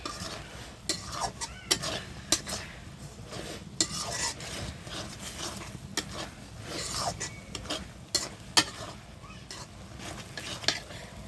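Greens mashed with dried fish are stirred in a pan, with repeated scraping and clinking of a utensil against metal over a steady low sizzle, close and continuous throughout.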